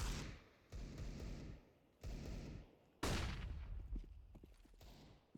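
Gunfire in a Counter-Strike match on the Anubis map: several sharp, loud shots come in separate bursts, and a heavier blast follows with a ringing tail.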